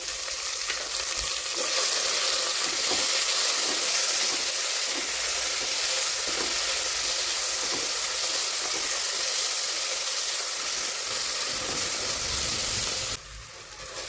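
Tomatoes, green chilies and salt sauté in hot oil for mutton biryani, a loud steady sizzling hiss that holds for over thirteen seconds, with faint stirring scrapes and a sudden drop near the end.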